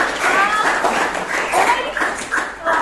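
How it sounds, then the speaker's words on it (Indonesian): A class of students claps for a group's answer in a mathematics lesson: dense, steady clapping with bright, fluttering whistle-like tones over it, loud and close. "beri tepuk tangan dong"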